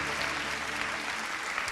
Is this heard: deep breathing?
no